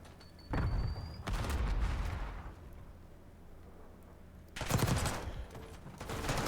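Gunfire crackles in an esports video game match, two bursts of loud, rapid shots separated by a quieter lull, heard alone without voices.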